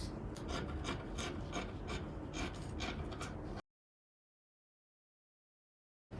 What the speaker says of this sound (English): I've pinned out the pattern on the fabric. Now I'm just going to cut it out.